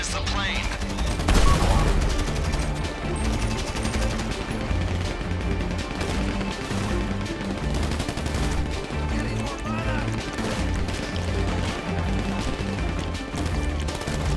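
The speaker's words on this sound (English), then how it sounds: "Watch out with those explosions." Rapid gunfire and explosions from the video game Grand Theft Auto V during a prison break setup, with dense overlapping bursts and crashes that continue without pause.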